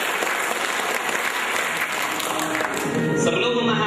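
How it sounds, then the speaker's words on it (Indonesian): A seminar audience applauds steadily, a dense and loud wash of clapping from many people that continues without break for several seconds. "Kita berikan tepuk tangan untuk kita semua."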